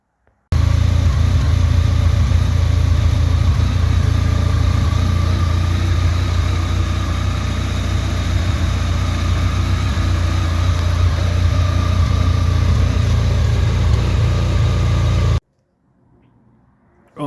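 A V4 motorcycle engine on a Cross Tourer fitted with a Scorpion race exhaust idles steadily with a deep, throaty exhaust rumble for about fifteen seconds, then cuts off abruptly into near silence.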